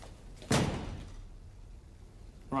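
An indoor door is pushed shut with a single loud slam and a short thud, followed by quiet room tone.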